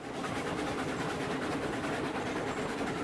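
A logging train rolls along steadily in the Railroads Online game, a continuous rumbling rail noise with a faint clickety-clack rhythm holding at an even level throughout, with no talk.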